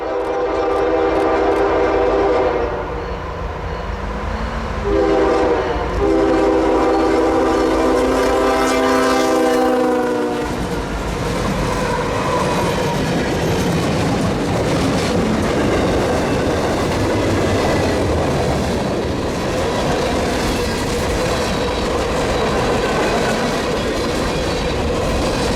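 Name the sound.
northbound CPKC manifest freight train passing, horn sounding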